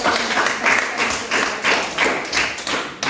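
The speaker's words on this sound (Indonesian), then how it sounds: "Kita berikan tepuk tangan untuk kelompok 3" A classroom of junior high students applauds a group presentation, a steady burst of many hands clapping together at moderate distance for a few seconds.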